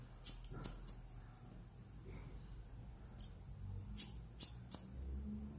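Scissors snip through hair during a modern military-style haircut, a few crisp, close cuts in quick pairs over a quiet room hum.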